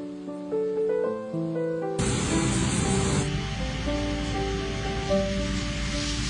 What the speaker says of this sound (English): IceTech Dry Ice Blasting